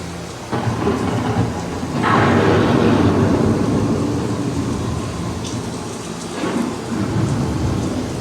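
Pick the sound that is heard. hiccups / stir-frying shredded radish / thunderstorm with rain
thunderstorm with rain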